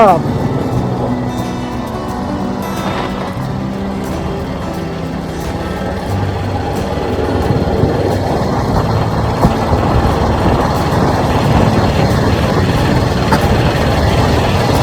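A Royal Enfield Bullet motorcycle engine drones loud and steady while riding along a smooth, pothole-free road through countryside, with a rider talking over the continuous rumble and wind.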